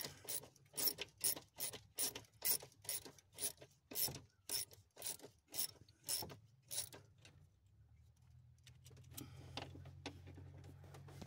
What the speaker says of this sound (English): And you want to tighten them down in an X pattern.